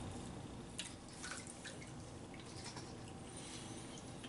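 Water from a bathroom sink tap splashes and drips steadily as a face is rinsed after a traditional wet shave, a continuous close, moderately quiet patter with small splashes and no talking.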